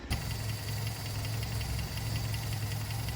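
A 1967 Sunbeam Alpine engine runs steadily at idle during a cylinder ignition check, producing a continuous low rumble with a regular pulsing beat, close and alone.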